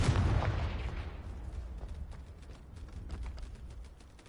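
Confringo spell explosion in Hogwarts Legacy, a single booming blast at the start that decays into a rumbling tail with scattered crackles and small pops as it fades.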